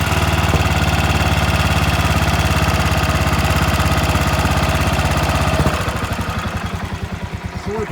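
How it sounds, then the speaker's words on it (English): A Royal Enfield motorcycle engine idles fast and steady up close, a continuous loud throb that drops into a slower, looser pulsing rhythm near the end. "There it goes, it's idled up really good"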